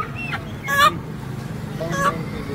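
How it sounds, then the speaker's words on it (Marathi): Two roosters held in hand give short squawking clucks, two brief calls over a low background hum, fairly close. "असे 2 कोंबडे घेऊन उभे आहेत"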